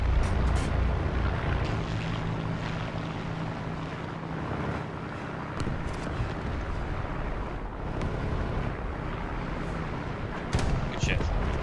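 Propeller aircraft droning overhead in War Thunder, a steady low engine hum mixed with tank and battle rumble, constant and fairly loud, with players talking over it.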